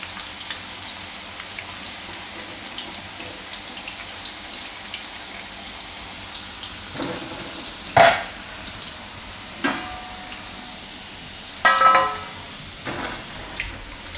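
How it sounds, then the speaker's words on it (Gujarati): Bitter gourd bhajiya frying in oil over a low flame, a soft steady bubbling sizzle with a few sharper spatters and clinks, no talk. "તો ધીમા ગેસે એને તળવાના છે આપણે"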